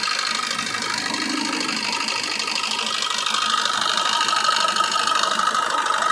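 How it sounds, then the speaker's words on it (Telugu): A 2017 Maruti Suzuki Baleno diesel engine idles close by with a steady, even hum and a faint clattering rattle, constant from start to finish with no voices. "డీజిల్ ఇంజన్ అండి ఇది డీజిల్ వెహికల్ డీజిల్ ఇంజను"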